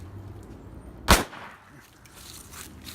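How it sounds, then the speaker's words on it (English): A firecracker bursts once as a single sharp, loud bang partway through, with some smoky crackle trailing off into quiet outdoor background afterward. "Here comes the firecracker. Make some noise."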